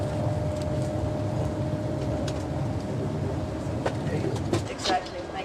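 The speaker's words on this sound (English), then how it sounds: "Here we are, on the fast train." Fast train riding on the rails, a steady low rumble and rattle of the carriage throughout, with faint clacks and a brief rise near the end.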